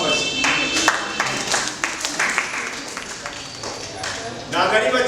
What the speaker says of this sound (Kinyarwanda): Ni ukuri mwiha amashyi abakabonye n'abatarakabona dutanga amashyi